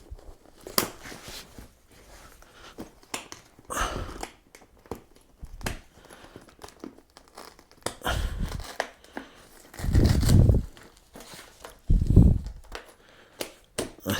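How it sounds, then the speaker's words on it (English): Buckles being fastened on Gearne Fastback Enduro motorcycle boots: scattered plastic clicks, rustles and scuffs, with a few louder crunching snaps near the end, close up and without speech. "Let's see what these buckles are like."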